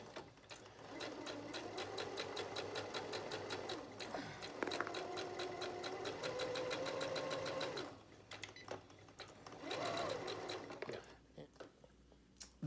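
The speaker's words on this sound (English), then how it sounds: "just sew a straight line. I do a little bit of back stitching." A sewing machine runs in steady bursts while stitching a straight line with some back stitching on a homemade cloth mask, the close, continuous mechanical whir pausing briefly around the middle and near the end.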